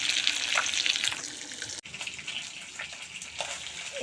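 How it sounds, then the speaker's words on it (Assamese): Fish sizzles in a pan of hot oil, a constant crackling hiss that briefly drops out midway, then resumes, with no talking. "এয়া মই মাছ ভাজি আছোঁ এতিয়া"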